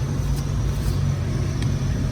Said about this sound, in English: I can hear the blower on now.